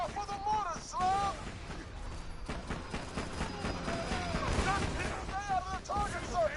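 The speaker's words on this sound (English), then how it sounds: "Watch out for the mortars, Slam!" Mortar fire rumbles throughout a Borderlands 2 firefight, with dense overlapping blasts and gunfire and the game's whooping sound effects over them, under continuous talk.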